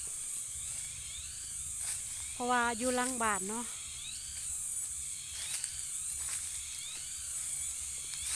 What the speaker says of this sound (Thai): เสียงจักจั่น